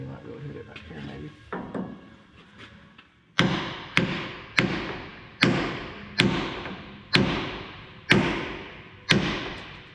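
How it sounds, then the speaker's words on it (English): Heavy hammer blows strike the rod pin on a Cat D7F dozer, eight loud, evenly spaced metallic impacts ringing out close by after a quieter stretch of clanking and shuffling. "Put this hammer here, you might be able to hit it back here maybe."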